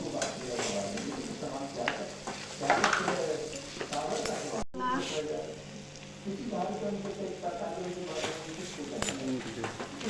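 Onions sizzle steadily in a pan with coriander and turmeric powder added, with stirring scrapes, while a voice talks over the frying.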